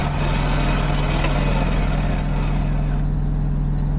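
A car engine idles in park with a steady, loud low rumble and a strong constant hum, close and unbroken for the whole stretch.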